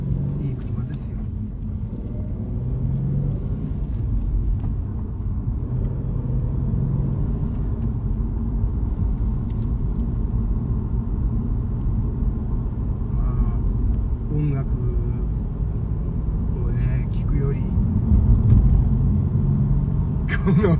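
A low, steady engine rumble from a Subaru Legacy 30R continues while driving, heard from inside the car, with faint voices now and then.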